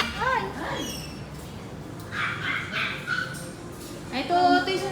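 Dogs in a pet shop in Doha bark and yip in short, high bursts mixed with whimpers, close by and heard amid people talking.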